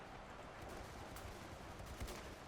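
Volleys of musket fire from French line infantry in a Napoleonic-era battle in Ultimate Epic Battle Simulator II, a dense, continuous crackle of overlapping shots at moderate distance with a couple of sharper reports standing out.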